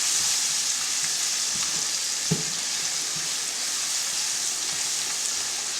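Spices frying at the start of a bean stew in a pot, a loud, steady sizzle and crackle with one brief knock partway through, no voices.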